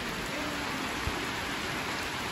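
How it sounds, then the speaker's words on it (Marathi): Rain falls steadily during the Ganesh festival arrival in Maharashtra, an even continuous hiss with one faint soft thump midway and no voices. "पाऊस पडायला लागलाय आता."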